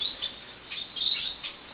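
A show bird being prepped chirps in short, high, bright bursts, several quick tweets spaced irregularly at close range against a quiet background.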